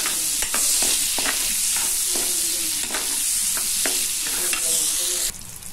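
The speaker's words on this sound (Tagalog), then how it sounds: "Gigisa na tayo ng bawang. Tapos sibuyas." Garlic and onion sautéing in a hot pan for Kapampangan pork kilawin, a close, bright sizzle broken by regular scraping strokes of a stirring utensil, stopping abruptly near the end.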